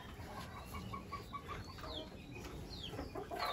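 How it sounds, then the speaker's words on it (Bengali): A black ornamental hen clucks in a coop after laying eggs. The clucks are soft and repeated over a constant background hiss, and they get a little busier toward the end. "এই যে আমাদের ফারার মুরগিটা ডিম পাড়ার জন্য ওর এখানে দিছিলাম।"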